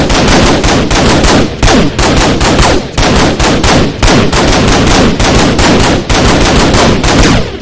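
Automatic machine gun fire from Flan's Mod in Minecraft, a loud, dense, continuous rattle of rapid shots held for several seconds, with brief dips in the stream of fire and no talking.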